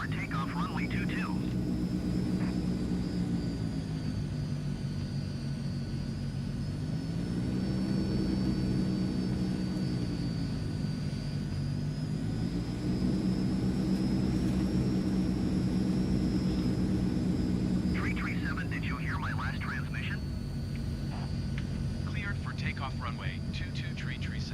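Twin turboprop engines of a simulated Transall C160 cargo plane drone loudly and steadily during the takeoff roll, the low engine tone swelling and easing in slow waves, with radio chatter heard over it.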